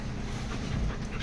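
A big dog panting in quick, breathy bursts close by, heard for just over a second.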